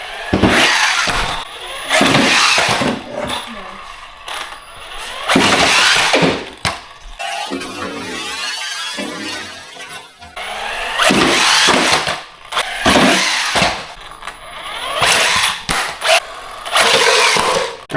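A DEERC 8618 1/16-scale brushless RC truck bashes around indoors, its motor whining in repeated sharp bursts between brief lulls, with clattering impacts and scraping of the body as it jumps and lands.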